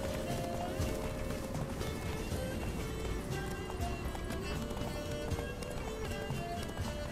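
Roach, Geralt's horse in The Witcher 3: Blood and Wine, gallops at full speed, the steady drumming of hooves running continuously under a loud, busy game soundscape with music and ambience throughout.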